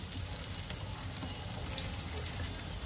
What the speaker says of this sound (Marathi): मच्छी तर आपली फ्राय होतेच आहे.